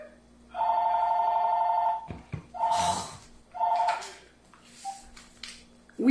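A telephone rings in several electronic bursts, a long trill followed by shorter ones, loud and close, with a voice briefly talking between rings.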